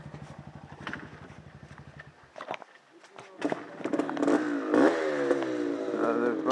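Yamaha Banshee ATV engine with a rapid idle putter that drops out, then revs up again loudly amid clattering and handling noises, with voices talking over the later part.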